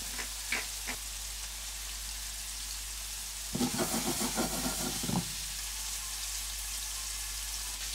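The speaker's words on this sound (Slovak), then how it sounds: "Následne pridáš do panvice cuketu a pomaly ju restuješ" Zucchini sautéing in a frying pan for a spaghetti dish: a low, steady background hiss, with a louder burst of crackling sizzle for a couple of seconds midway, then settling back to a quiet simmer.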